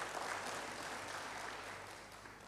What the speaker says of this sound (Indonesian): Berikan tepuk tangan yang hebat bagi Tuhan.